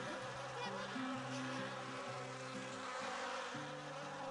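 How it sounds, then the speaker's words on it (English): Angry bees swarm in the PSVR game The Lost Bear, a steady dense droning buzz with layered tones shifting in pitch, continuous and close throughout. "that has annoyed the bees, who are flying towards me"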